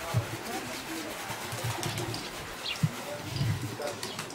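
Racing pigeons arriving at a loft during a club race return, with soft, quiet cooing and light bird calls over a faint outdoor background, and a voice speaking intermittently.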